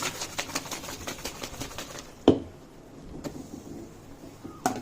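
A mixer jar holding water and leftover paste shaken hard in a home kitchen, rattling sloshes in a rapid run, then a few louder separate knocks, close and alone.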